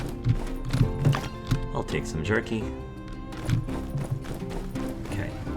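Horse hooves clip-clop steadily as a rider travels on horseback in the video game My Time at Sandrock, mixed with game music while a person talks over the top.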